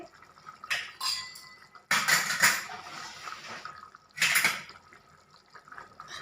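Water is poured into a pot of chickpea curry in a few separate bursts of splashing and trickling, close and moderately loud, with quieter gaps in between.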